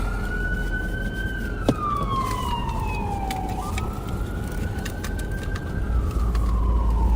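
An ambulance siren wails past a patrol car, a loud sweeping tone that slides down in pitch as it passes and then rises again, over steady road and engine rumble.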